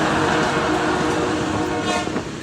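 A train rumbles past close by, a loud continuous roar of wheels on rails with a faint tonal whine above it.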